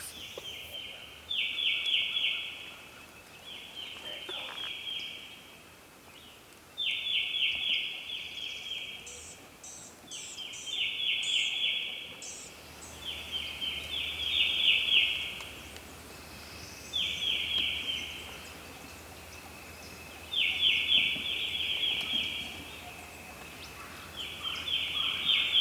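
Several wild turkeys gobble hard on a spring hunt in Mississippi, each burst a bright rattling call repeating every few seconds. The gobbling carries from a moderate distance over a quiet woodland background.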